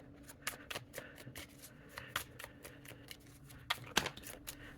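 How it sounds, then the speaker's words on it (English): Nosotras Tarot cards being shuffled by hand, a quick irregular run of crisp riffling and tapping clicks, close and fairly quiet, with no talking. "It's a nice shuffle."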